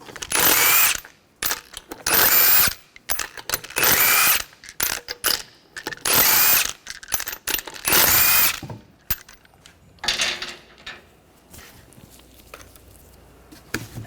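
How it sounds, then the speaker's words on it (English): Ratchet with a 19mm socket spinning off wheel lug nuts on a Ford Escape, loud close bursts of rapid clicking in repeated runs with short pauses, then quieter handling clatter at the end, no talk. "Remove the lug nuts, take a 19mm socket"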